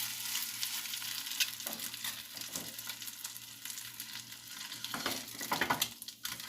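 Egg and cheese fry in a pan for over-easy eggs, giving a quiet, steady sizzle with soft crackles and a few sharper pops near the end, with no voices.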